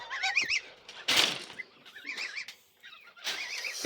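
White geese honk and call in a farmyard, several rising, wavering cries in quick bursts with a loud sharp outburst near the middle, other birds chattering nearby.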